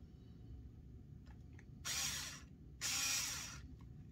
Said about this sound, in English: Now we can screw it together.